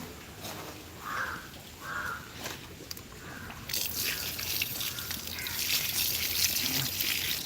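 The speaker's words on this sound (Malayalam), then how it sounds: "നല്ല മഴ അടിപൊളി മഴ" Rain drips and trickles outside near a kitchen, with a few loud crow caws early on, then heavier, steadier broadband patter of falling rain taking over and continuing to the end.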